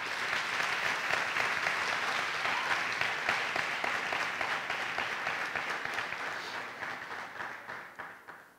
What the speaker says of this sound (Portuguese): nós queremos dar a você uma forte e calorosa salva de palmas